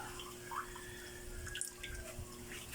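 Creamy water trickles and drips into a pan of salmon adobo, a faint, steady liquid sound at close range with no talking.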